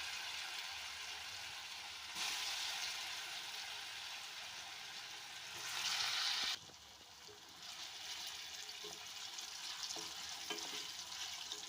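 Pieces of liver drop into hot oil and fry with a steady, fairly quiet sizzle that swells louder for a moment partway through, then settles back to a soft continuous crackle.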